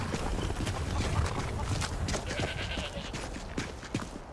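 Horse hooves clip-clop at a stable in the video game The Elder Scrolls V: Skyrim, a steady run of close, crisp knocks over a faint ambient background.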